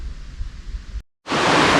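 Jones Falls, a waterfall on the Appalachian Trail in the Roan Highlands, roars with steady broadband rushing water. A quieter noisy stretch and a brief silent gap come before the full, loud, continuous roar.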